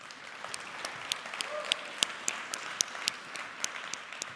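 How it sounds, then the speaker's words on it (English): Audience applause at a live personal-branding talk, a steady wash of clapping from a moderate-sized crowd with sharper individual claps popping out, sustained for the whole stretch at fairly even loudness. "So let's give them a round of applause."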